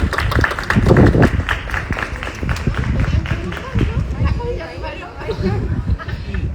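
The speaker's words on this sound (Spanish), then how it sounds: "Un aplauso para Metalibro." Audience applause at an in-person photography talk, a burst of clapping and crowd chatter from a seated room that rises quickly and then thins out over several seconds.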